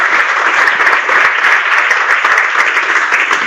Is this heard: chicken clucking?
no